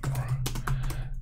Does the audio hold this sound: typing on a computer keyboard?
yes